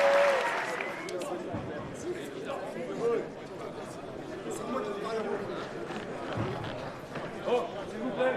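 Crowd at a K1 kickboxing world championship fight, applause and chatter from an indoor audience heard under an announcer's voice over a loudspeaker, with a few louder bursts.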